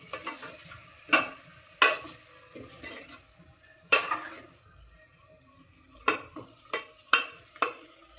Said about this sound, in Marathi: आता आपण ह्या मसाल्यामध्ये हे चिकन जे बनवलेलं आहे ते याच्यामध्ये टाकून घेऊ. आणि ते मसाल्यामध्ये थोडं फिरू